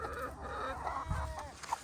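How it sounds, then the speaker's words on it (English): Several chickens cluck and murmur close by in a busy, overlapping chatter. "Chickens."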